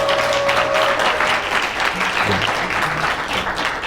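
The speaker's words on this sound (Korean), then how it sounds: "다시 한번 박수." An audience claps for a speaker at the close of a special lecture on Christian theology; steady, full applause from a sizable crowd runs throughout, with faint murmurs and a brief voice underneath.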